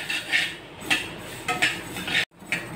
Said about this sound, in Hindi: तो सरसों को कढ़ाई में डालकर इस तरह चलाते हुए इसे भून लेंगे।